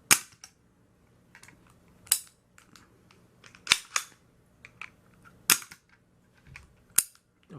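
Hi-Point handgun with a modified trigger spring being dry-fired, sharp metallic clicks and snaps in an irregular series of about eight distinct hits, close and fairly loud with quiet gaps between.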